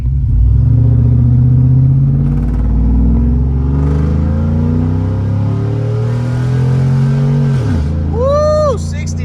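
A 1999–2007 Chevrolet Silverado truck engine revs up to 6,600 RPM, its loud rising whine climbing over several seconds before dropping sharply, with voices talking and cheering over it.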